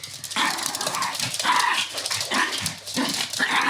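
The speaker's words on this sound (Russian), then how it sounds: "Это она рычит." A Pomeranian spitz puppy growls and yips in short, rough bursts, close and fairly loud, several rapid vocalizations in a row.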